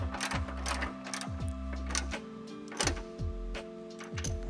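Wrench tightening a hood strut bracket bolt on a 2025 Toyota 4Runner or 2024+ Tacoma, giving close, repeated ratcheting clicks in short bursts over a steady low mechanical hum.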